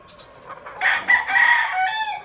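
A young six-month-old rooster gives one loud, close crow, a rising strained call that holds and then tails off, alone without talk.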